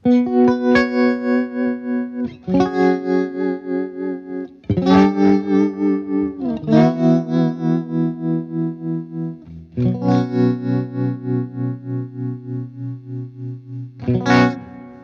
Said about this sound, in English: I have the Ocean 11s by Electro Harmonix, doing a little bit of tremolo